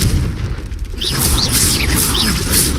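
Repeated Confringo spell blasts in Hogwarts Legacy crackle and boom in quick succession, loud and close, several bright bursts following one after another over low rumbling.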